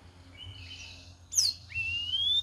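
A captive straw-headed bulbul gives a few bright, clear whistled chirps, including a sharp rising note and a longer sustained phrase, close by over faint background noise.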